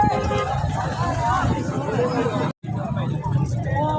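A busy crowd on Eid day in Pakistan: dense, continuous babble of many voices with nearby people talking over it, briefly cut by a split-second silence.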